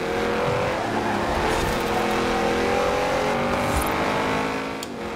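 An Audi RS7 engine roars in sustained hard acceleration during a night chase after an Audi R8, a loud, continuous rising drone with steady tire and road noise that eases slightly near the end.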